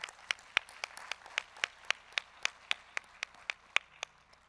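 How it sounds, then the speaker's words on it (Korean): A single set of hands claps in a steady, evenly spaced rhythm, about fifteen sharp claps, fairly faint in an otherwise quiet room. "우리 같이 한번 박수 쳐줍시다"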